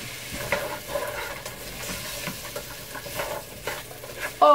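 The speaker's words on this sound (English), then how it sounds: "Into the bubbling fat, we're going to add 4 cups of chopped apples" Chopped apples frying in bubbling fat while being stirred, a close, quiet crackle and sizzle with soft scraping stir strokes throughout.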